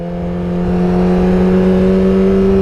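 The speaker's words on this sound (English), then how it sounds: "Listen to the bike. It's getting louder." A motorcycle engine hums with a steady tone that swells gradually louder as throttle is added, close and continuous, with no voices over it.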